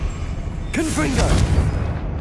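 A Confringo fire spell bursts in the wizarding game Hogwarts Legacy, a sudden broadband blast with a rolling, crackling tail, layered over a short sliding voice-like cast sound and steady game ambience.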